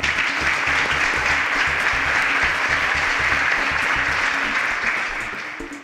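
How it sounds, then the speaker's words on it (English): A quiz audience applauds a contestant named Anita for a correct answer, a steady wash of many hands clapping throughout that fades slightly at the very end. "A round of applause."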